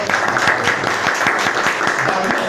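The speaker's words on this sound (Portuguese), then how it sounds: "Vocês não vão bater palma, não?" Audience applause fills the room as a dense, steady patter of many hands clapping, loud and continuous for a couple of seconds, at a Brazilian presentation of a cultural heritage teaching project.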